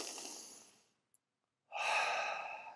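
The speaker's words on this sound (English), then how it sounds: "Deep breathing here. I want you to breathe in" A deep breath is drawn in and let out during a bodyweight workout cooldown, two long airy exhalations split by a short pause, close and fairly loud, with no talking.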